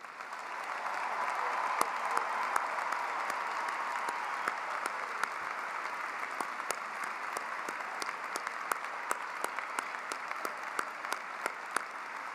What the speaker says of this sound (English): Let's give these officers and all of our veteran graduates, their family and friends, and all the members of our military community a round of applause.